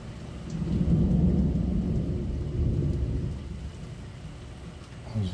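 Summer thunderstorm in Alabama, with steady heavy rain and a deep, close rumble of thunder rolling continuously through the whole stretch, swelling and fading without any voices.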